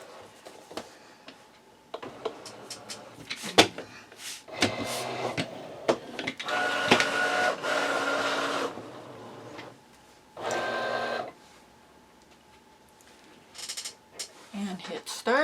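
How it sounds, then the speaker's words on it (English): A Cricut cutting machine takes in a loaded cutting mat and begins running, giving mechanical whirring and clicking bursts of varying length with short gaps, close and moderately loud, with some brief speech. "let's go ahead and put mat number 4 into the machine"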